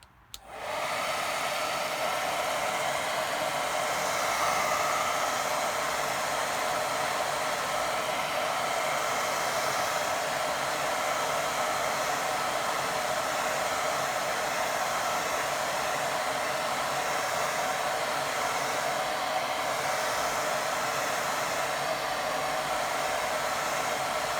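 A hair dryer switches on and blows steadily over a watercolour painting, a loud, close, unbroken whooshing hum with no talk.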